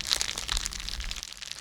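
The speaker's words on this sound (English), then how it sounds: "Just the crackle and spit of burning could be heard in the night." A fire crackles and spits at night in a folk horror story setting, a dense run of small snapping pops and crisp crunchy crackles over a low rumble, steady and close with no voices.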